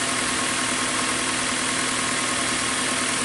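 A 2015 Hyundai Accent with a loss of acceleration, running rich and stalling, idles with a loud, steady, unbroken mechanical drone that fills the whole stretch, with no talking.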